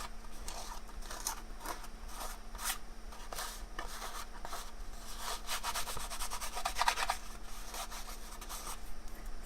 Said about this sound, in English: me scratching off a lot of the paint